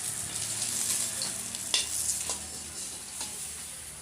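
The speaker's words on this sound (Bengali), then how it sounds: "আমি সজনে ডাঁটা আলুটা ভেজে নিচ্ছি সেই তেলে, এই মাছ ভাজাতে" Drumsticks and potato fry in oil left over from frying ganga fish, giving a steady close sizzle with occasional crackles and soft stirring clicks, no voices.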